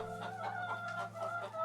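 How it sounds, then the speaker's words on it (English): Hens and a rooster, a white hen and a red bird among them, cluck continuously in a steady, busy chatter, with a low constant hum underneath. "the white hen and the rooster don't want to be moved, right?"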